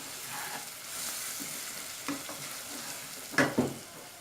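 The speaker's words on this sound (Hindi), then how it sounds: "ये देखें, ये बहुत अच्छी सी फ्राई होना शुरू हो गई है" Green chillies fry with spices and ground dried coriander in a pan, giving a soft, steady sizzle throughout, with a few sharper stirring scrapes near the end and no talking.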